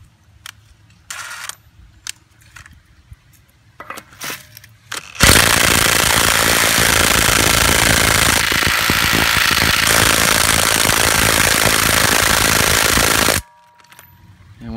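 DeWalt DCF886 cordless impact driver hammering at a lug nut on a 2011 Chevy Cruze that won't come loose, a loud continuous rattling burst of about eight seconds after some brief handling clicks, then stopping abruptly.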